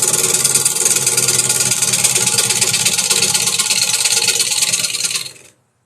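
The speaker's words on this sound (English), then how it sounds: "let the gouge do the work." Gouge cutting a spinning wooden workpiece on a lathe: a loud, continuous rasping shave over the motor's hum, steady for about five seconds before abruptly cutting off into silence.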